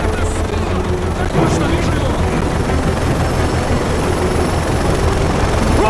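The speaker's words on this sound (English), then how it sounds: "Watch out for that chopper!" Helicopter flying overhead in the video game Call of Duty MW3, a steady loud rotor drone filling the scene under continuous gunfire and battle noise, with shouted voices mixed in.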